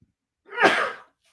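A single sneeze bursts out in one sharp, breathy blast lasting about half a second during a jiu-jitsu interview, with near silence before and after.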